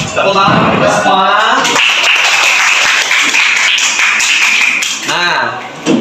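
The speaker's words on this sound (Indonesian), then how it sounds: "Tepuk tangan kita semua." Classroom clapping from students joining in after an activity, bursts of hand claps mixed with children's and a teacher's voices talking over them, fairly loud and close throughout.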